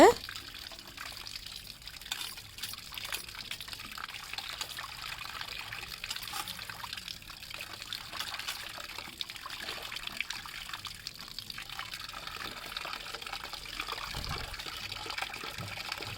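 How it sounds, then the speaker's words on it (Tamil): Steady trickle of running water from a tap, continuous and moderately quiet, with splashing as fish is rinsed; no talking heard over it. "திரும்பவும் இந்த மாதிரி மீனை வந்து நல்லா தண்ணியில் கழுவிக்கோங்க"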